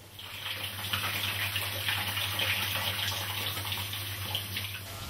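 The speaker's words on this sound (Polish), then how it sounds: "Pod prysznicem Declan traci poczucie czasu" Shower water runs in a steady, loud, continuous hiss that holds evenly for the whole stretch, with no voices over it.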